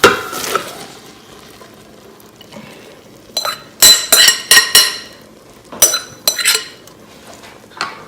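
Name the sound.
black beans added to the Instant Pot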